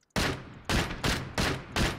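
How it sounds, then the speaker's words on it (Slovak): Video game gunfire cracks out in five sharp, loud bursts at irregular intervals, each a sudden broadband blast with a brief decaying tail. "Bacha, alebo strieľa po tebe."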